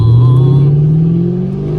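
A 500hp Chevrolet Camaro SS engine revs loudly up close, a deep rumbling tone rising steadily in pitch over a couple of seconds.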